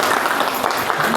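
A seated audience at a business training session in Nepal claps, a dense, continuous burst of applause that fills the short moment.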